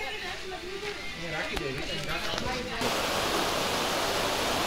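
A mountain stream flows along the Jatashankar trail near Junagadh, its steady broadband rushing water rising louder in the second half after voices talk over it at first.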